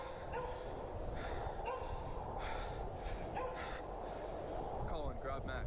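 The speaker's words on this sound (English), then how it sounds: "awoken around 4:30 a.m. to the sound of their dogs barking" Dogs barking at night in a house, short yips and barks scattered over a steady noisy background, with faint voices mixed in.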